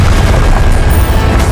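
Expelliarmus spell striking during combat in Hogwarts Legacy, a very loud booming impact with heavy low rumble and crackling burst sustained across the moment, with no talk.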